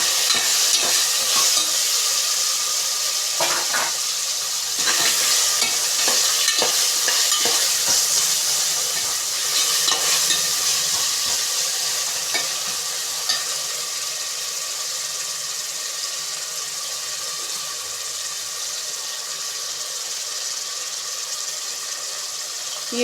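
Chopped tomatoes stir-fried in a pan for brinji rice, a steady close sizzle and hiss with scattered scraping stirs in the first half, settling into an even frying hiss without talk.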